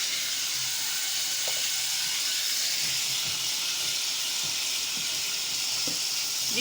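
Mincemeat stew frying in a pan gives a steady close hiss and sizzle, with occasional soft stirring clicks underneath.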